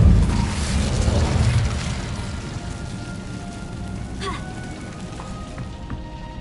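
An Incendio fire spell cast in the video game Hogwarts Legacy: a loud rumbling, crackling burst at the start that settles into a steady low roar, with faint thin tones sounding near the end.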